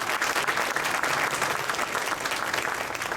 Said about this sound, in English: a little round of applause for the trumpet section as well